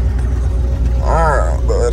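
A 1970s Ford Mustang Mach 1 engine runs as it backs out, a low steady rumble heard beneath close talking voices.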